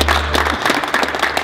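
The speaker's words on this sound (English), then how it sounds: "I want to again clap it up for our trainers" Audience applause for basketball trainers at an NYC basketball pro day, a short burst of dense clapping with a low hum fading out early and faint voices beneath.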